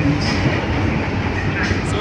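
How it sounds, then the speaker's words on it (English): A Chicago subway train pulls into the station on the way to a Cubs game. It makes a loud, continuous rumbling roar throughout, with a faint high squeal now and then. "Here's the train."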